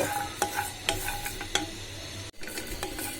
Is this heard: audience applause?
no